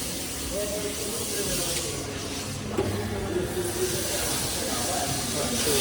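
Water rushes through a large commercial coffee machine during calibration, a steady, close hiss that runs throughout with a faint voice underneath.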